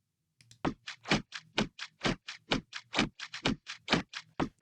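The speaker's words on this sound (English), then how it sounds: "But these are just resampled drums." A resampled drum loop plays back as a tight, even run of short percussive hits, roughly four per second, crisp and close with a clicky, ticking character and no voices.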